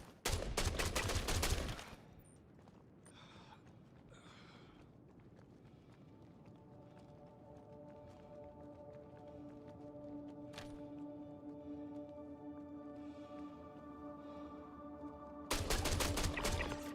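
A P6 weapon fires in the space game Star Citizen: loud, rapid bursts of shots open and close the stretch, with a quiet, humming lull between them.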